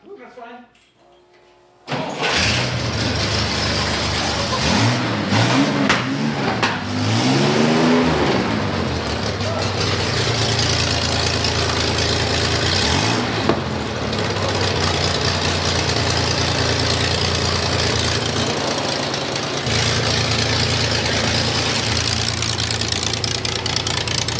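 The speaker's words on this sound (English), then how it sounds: "Oh, that is backfiring bad." A loud engine, started fast through a nasty exhaust stack with the timing off, runs rough and backfires badly, with sharp pops over a steady roar while people talk over it.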